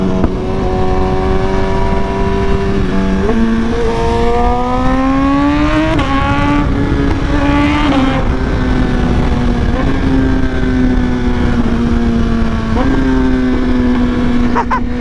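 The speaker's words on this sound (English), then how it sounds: "I love the sound of this bike." Motorcycle engine while riding on a group ride to a Brooklyn pier, a loud continuous drone that climbs in pitch through several gear changes, dropping and rising again, close and steady throughout.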